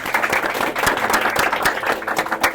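Guests at an engagement ceremony for Isadora and Marcos Vinícius break into steady, close clapping that fills the room, scattered sharp claps standing out over a dense patter.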